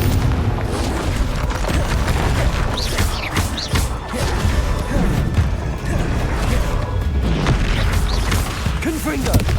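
Confringo fire spell explosions in the video game Hogwarts Legacy, loud booming blasts and crashes repeating densely throughout, with layered impact noise and rumble filling the whole stretch.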